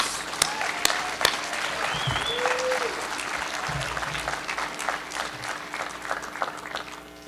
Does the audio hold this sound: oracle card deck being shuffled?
no